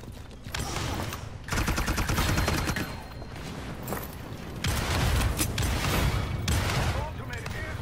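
Sniper rifle shots in a video game ring out as loud cracks amid a dense, noisy game mix of mechanical clatter and bursts, with a voice talking over it.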